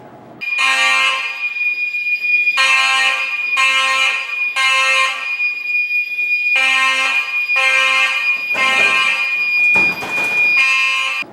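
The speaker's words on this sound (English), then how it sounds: "Fire alarms have been activated." A loud electronic fire alarm in a building hallway rings in repeated pulses with short gaps between them, harsh and piercing, with no voices.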